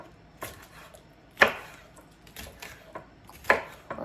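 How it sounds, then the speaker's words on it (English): A knife rough-chopping green peppers on a board for chicken noodle soup, with a few sharp, spaced chops, two louder than the rest, and no talking. "So we pretty much rough chopping these green peppers as well."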